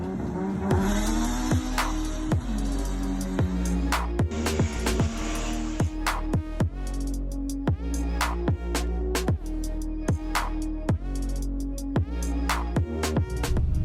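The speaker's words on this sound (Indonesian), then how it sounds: "Nah kita mau nyoba nih sekarang nih gimana sih rasanya pakai Jazz GK5 udah turbo." Turbocharged Honda Jazz GK5 hatchback engine roaring under hard acceleration, loud and close, with repeated rising revs broken by sharp gear-change cuts and bursts across the run.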